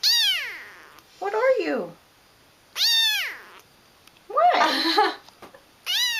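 A tiny nine-ounce kitten gives several loud, drawn-out meows close up, alternating with a person speaking to it in between.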